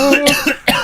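A few sharp, close coughs in quick succession, harsh and loud, with brief gaps between the bursts.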